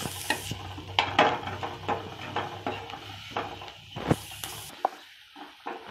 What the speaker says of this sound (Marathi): थोडं परतून घेऊया.